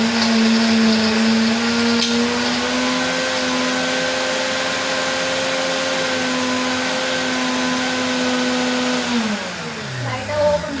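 A mixer grinder whirs steadily and loudly while grinding curry leaf chutney (karuveppilai thuvayal), its motor tone holding level before winding down and slowing near the end.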